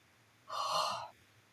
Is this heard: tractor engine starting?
no